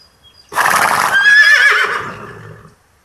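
A horse neighs loudly and close, one long whinny that rises into a shrill squeal and then trails off, with no other sound around it.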